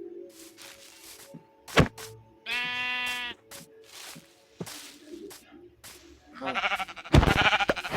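Minecraft sheep bleat twice, a loud harmonic baa near the middle and another at the end, among scattered thumps and footsteps.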